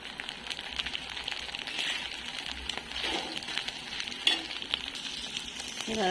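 Village-egg masala bhurji stir-frying in a pan, a steady close sizzle with scraping spatula strokes and small crackles running throughout, no voices.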